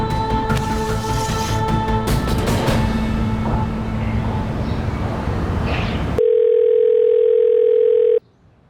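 A telephone call goes unanswered: noisy indoor bustle gives way to a loud, steady line tone that holds for about two seconds and then cuts off abruptly.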